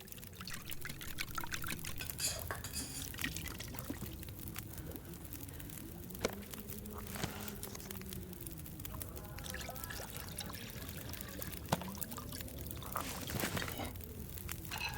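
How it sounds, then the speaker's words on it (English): Water for porridge in the survival game The Long Dark runs in a quiet, continuous trickling pour that stays soft and even throughout. "now we're going to start making all the porridge"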